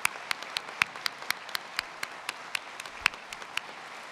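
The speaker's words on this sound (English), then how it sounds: "I would appreciate a round of applause for Garrick Starks and what he has meant to us." A small, sparse audience at a Campbellsville University graduation gives scattered applause, a handful of distinct, sharp claps spaced irregularly over a quiet room.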